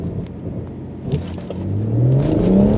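A BMW M140i launches hard from a standstill with its wheels spinning, the engine note rising loud and close as the revs climb, with no talk over it.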